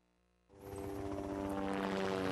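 A news helicopter flies over morning traffic, its rotor and engine drone rising suddenly from near silence into a loud, steady, continuous roar with no voices.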